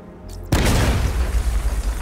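A detonation in the video game Batman Arkham Knight erupts suddenly after a brief quiet lead-in, a loud deep boom that rolls into a sustained rumbling roar.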